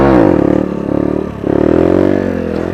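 Up close, a Sinnis Apache 125 motorcycle engine revs hard for a wheelie, holding a buzzing high pitch that dips briefly midway before climbing again.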